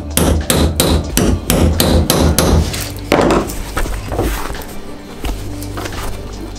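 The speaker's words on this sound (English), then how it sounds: "we hold it, we bash it with a hammer," Sharp metallic hammer blows strike a rivet tool in a steady rhythm, about eight in quick succession, then a few heavier knocks and a settling pause, while fitting leather.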